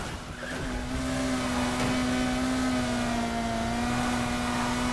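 A race car engine in Need for Speed Heat holds a loud, steady high-pitched drone under acceleration, with tire noise and a brief scrape, and no talk over it.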